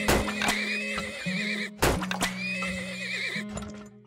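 Horses neigh and whinny repeatedly in the oil-drilling video game Turmoil, several shrill calls in quick succession, loud and close with short gaps between them.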